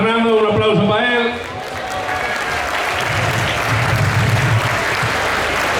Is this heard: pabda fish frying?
no